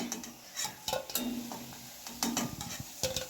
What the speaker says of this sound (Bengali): দেখো লাল লাল করে ভাজা হয়ে গেছে, এবারে তুলে নিচ্ছি একটা একটা করে